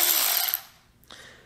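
Milwaukee M12 cordless ratchet with its trigger locked out: a short burst of high whirring motor noise that cuts off, then a faint mechanical click as the lock engages, heard close with no talking.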